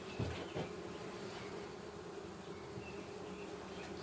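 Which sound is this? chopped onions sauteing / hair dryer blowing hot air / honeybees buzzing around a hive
honeybees buzzing around a hive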